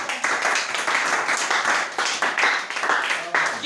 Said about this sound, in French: Acclamez pour Jean-Baptiste.